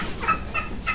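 Chickens kept under a bed give a quick series of close, short gobbling clucks, three or four bursts in about a second over a low background.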